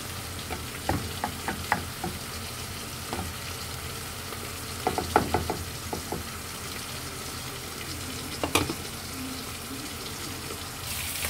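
Octopus frying in butter, garlic and oyster sauce with chili added, a steady sizzle close by with scattered pops and stirring clatter, no talk.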